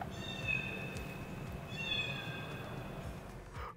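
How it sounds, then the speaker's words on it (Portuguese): A cat's meow, slightly electronic in tone, played through the external speaker of a Zeekr X electric car, sounds twice over a steady low rumble outdoors. "Você vai poder reproduzir externamente sons como o do gatinho"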